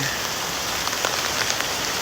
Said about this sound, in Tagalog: First time ko maligo sa ulan sa probinsya